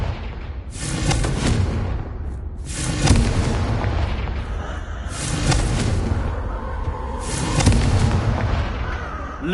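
Confringo fire spells exploding in Hogwarts Legacy, four heavy booming blasts spaced about two seconds apart, each with a crackling tail, loud and close.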